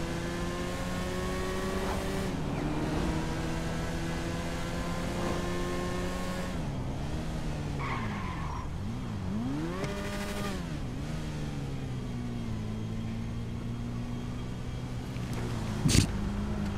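A pickup truck in a video game drives close behind, its engine droning steadily with rising and falling revs and a brief sharp spike near the end; no one speaks.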